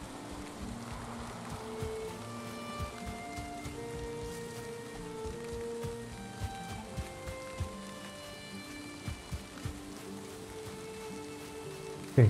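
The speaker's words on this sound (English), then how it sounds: "The rain is really a hindrance." Rain patters steadily on surfaces in the Valheim game world, a soft constant hiss with scattered small drops and a few faint thuds, while tonal game ambience hums underneath.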